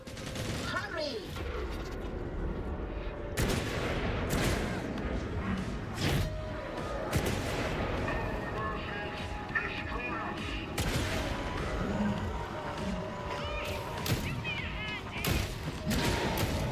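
Rapid automatic fire from a weapon in Warhammer 40k: Darktide rattles on almost without pause, loud and close. Impacts and clanking mechanisms mix into it, and a voice speaks over the shooting.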